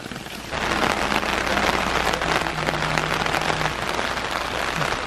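Heavy rain pours outdoors in Sumedang, a dense, loud hiss of drops on surfaces that swells up after a quiet half-second and stays steady and close to the end, with a faint low tone beneath.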